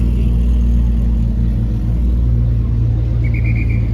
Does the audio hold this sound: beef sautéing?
no